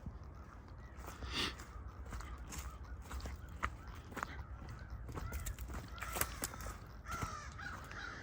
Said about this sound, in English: And the crows are coming back.